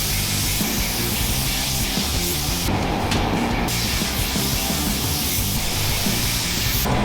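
Spray gun laying black paint over white epoxy primer on Jeep parts, a steady close hiss running continuously with a brief change in tone midway, no talk.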